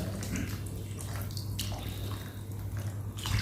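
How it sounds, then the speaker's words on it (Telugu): Water poured into a cooking pot while making crab curry, a steady splashing pour that runs continuously for a few seconds under a constant low hum, close and moderately loud. "ఇక వాటర్ పోసుకోవాలి"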